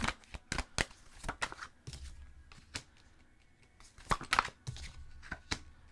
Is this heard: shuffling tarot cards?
yes